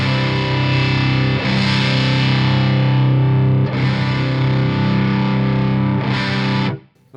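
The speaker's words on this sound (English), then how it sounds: "when you turn the reactance up, it gets a lot sort of, you know, sizzly" Sizzly, distorted electric guitar through a Synergy SYN-20 IR module with reactance turned up, long sustained chords ringing with bright fizzy upper edges, restruck a few times and then cut off at the end, with no speech.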